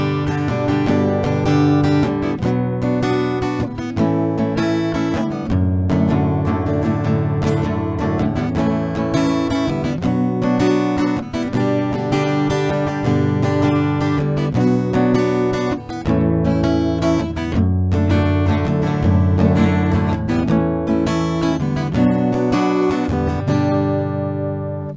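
Strummed acoustic guitar plays the chord progression of Wilkinson and Becky Hill's "Here For You", a steady, loud and continuous rhythm cycling through the changes, with no voice over it.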